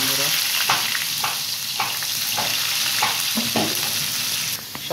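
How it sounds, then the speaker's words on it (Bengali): Red amaranth greens frying in a pan with onion and garlic, a constant loud sizzle broken by repeated scraping stirs at a steady pace. "লাল শাক ভাজি করতেছি দেখুন বন্ধুরা"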